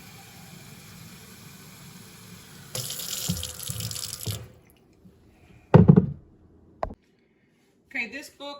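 A kitchen tap runs as someone tests the warming water under an arm before filling a cup, with a steady low stream, a brief louder splash, and voices speaking over it.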